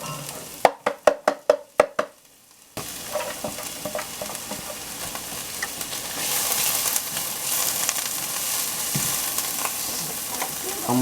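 Garlic and onions hit hot oil in a pan after a quick series of sharp chopping knocks, then a steady close sizzle that builds louder, with stirring scrapes and no talk.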